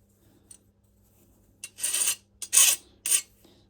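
Close, rasping strokes of a coarse file: a faint scrape, then three loud, separate strokes of almost a second each with short pauses between, alone in a quiet room.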